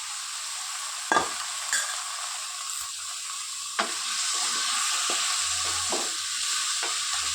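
Green banana pieces hiss softly in a frying pan as a spatula stirs them, with a few sharp scrapes and clacks over a faint, steady sizzle and no talking.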